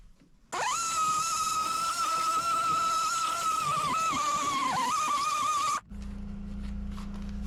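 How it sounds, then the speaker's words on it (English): A die grinder with a carbide bit smooths the edges of a drilled center hole while a clutch master cylinder and brake booster are installed on a C10 truck. It gives a sustained high, steady whine for about five seconds, dipping slightly under load, then cuts off abruptly. "I'm going to open up that center one just a little bit with a die grinder and a carbide bit."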